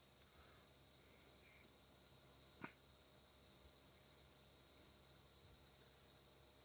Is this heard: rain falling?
no